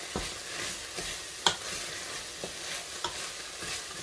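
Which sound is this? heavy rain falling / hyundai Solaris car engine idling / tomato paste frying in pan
tomato paste frying in pan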